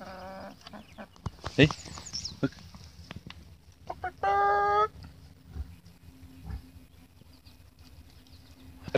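A rooster crows once, loud and close, in a home yard with three-week-old Meat King chicks behind wire. Clucks and scattered thumps surround it, and a voice briefly speaks nearby.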